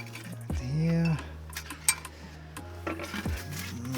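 Potting soil for a penjing is stirred and scooped in a container, with scraping and a few metallic clinks in short bursts and a sharp knock near the middle, fairly close by.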